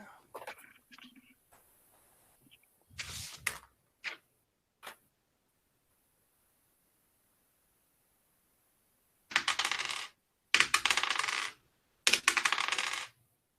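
Dice rolled for a tabletop role-playing game to spend hit dice, heard as several short clattering bursts on a table, a few quick rattles early and then three longer rolling clatters near the end, with no talk over them.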